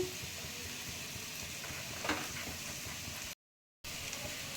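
Sama rice (barnyard millet) paratha sizzling in a little oil on a hot pan, a steady close hiss and crackle that runs continuously apart from one brief break, with no voices.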